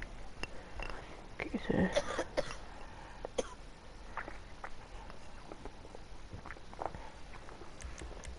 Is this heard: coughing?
yes